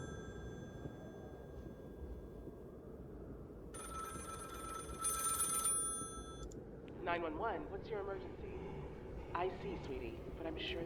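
A telephone rings in the video game Cabin Factory, bright repeated electronic rings over a low rumbling background hum, followed by a few short chirpy tones near the end, with no talk.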